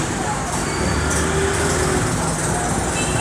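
Honda CG125 motorcycle engine held at a raised idle around 2000 RPM during mixture tuning, a loud, steady, close-up mechanical drone with no talking.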